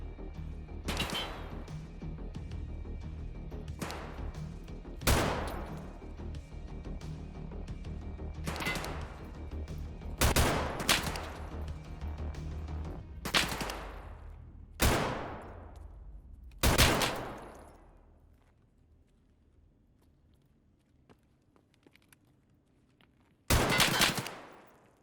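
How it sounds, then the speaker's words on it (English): Gunfire in Escape from Tarkov: a series of sharp shots and short bursts spaced a few seconds apart over steady background noise, then a quieter stretch before one final loud burst near the end. "Why is he just shooting the wall?"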